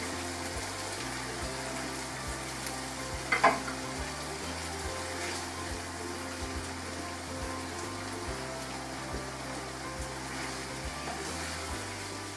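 Marinated fish pieces going into a pan for a Pakistani fish curry give a soft, steady sizzle and bubbling hiss, faint and even throughout, with one brief clink partway through.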